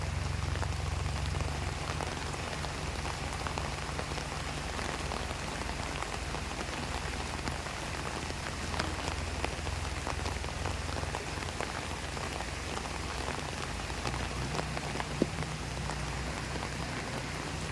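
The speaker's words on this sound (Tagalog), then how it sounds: "Kasi lumakas na naman ang ulan." Heavy typhoon rain pours steadily during flooding, a dense unbroken hiss of drops pattering on surfaces with a low rumble underneath.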